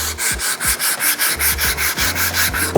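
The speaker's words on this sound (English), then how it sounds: "Sand with the grain." A wooden box lid is hand-sanded with the grain in quick, rhythmic back-and-forth strokes, roughly five per second, giving a loud, close, raspy rubbing with no voices.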